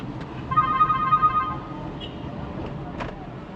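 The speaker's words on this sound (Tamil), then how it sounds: "யாரும் இதில் ஃபோன் அடிக்கிறாங்க, இருங்க." A mobile phone rings in a vehicle on a drive through Idukki, a short repeating electronic tone pattern for about a second over road and engine noise, with occasional beeps afterward.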